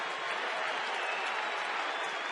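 Baseball stadium crowd of about 43,000 on its feet during an Angels game, cheering and clapping in a dense, steady roar that fills the air.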